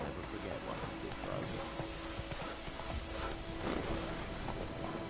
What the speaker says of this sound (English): Come here, Roach